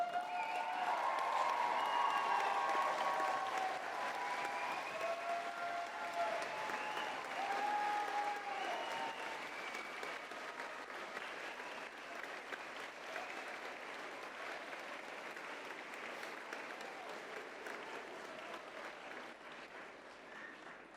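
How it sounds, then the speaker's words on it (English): Applause from a graduation ceremony audience, dense and sustained for the full length, with some cheering mixed in. It is loudest at the start and thins slightly toward the end. "join me in showing your thanks with a huge round of applause and some cheering"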